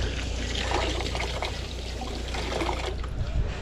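Water runs in a continuous trickling pour at a rural house lot, a steady splashing stream heard close and alone, with no talk over it.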